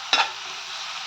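Ingredients for mint rice sizzle steadily in a hot pan, with a brief scraping stir at the start followed by an even, close frying hiss and no talking.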